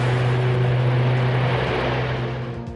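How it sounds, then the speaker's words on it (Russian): Tu-95 strategic bomber with powerful turboprop engines, a loud steady low droning hum with strong tonal propeller harmonics, continuous and fading slightly at the end. "Свое прозвище стратегический ракетоносец Ту-95 получил благодаря уникальным турбовинтовым двигателям, самым мощным в мире."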